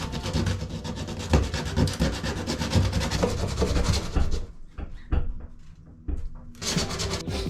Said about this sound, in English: We need to sand that down.